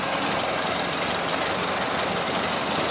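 An old car engine, freshly filled with antifreeze and fresh gasoline, runs after a little throttle, a dense, steady, loud rumble with no pauses or talk.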